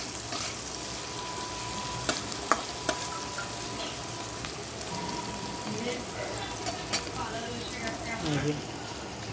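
Onion frying in a pan for egg curry, a faint soft sizzle with scattered light clicks and pops and a few utensil taps, in a quiet home kitchen at night.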